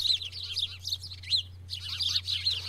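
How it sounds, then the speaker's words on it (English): Several nesting birds chirp and twitter in quick, high, overlapping bursts from a blooming male hackberry tree in a backyard, with a short pause midway and a steady low hum underneath. "a male hackberry tree that's blooming right now, and which is hosting a variety of nesting birds, as you can hear"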